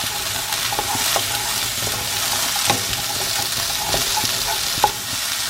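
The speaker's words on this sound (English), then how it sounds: "So I'm going to add to this my garlic. There's 2 cloves of garlic going in. Give that a little stir." Garlic cloves stirred into a hot pan with chorizo and peppers, a steady sizzling fry with occasional scraping stir clicks, close and moderately loud.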